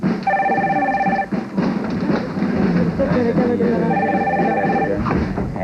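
A telephone bell rings in two bursts of rapid, high metallic trilling, separated by a gap, with a busy background of voices and noise underneath.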